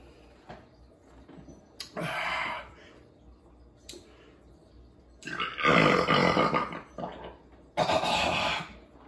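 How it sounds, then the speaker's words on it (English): Several deep, low-pitched burps after drinking a Citra-hopped IPA beer, including one short belch and two longer, rumbling ones, loud and close with quiet pauses between. "Your typical IPA burp, not high pitched, very low"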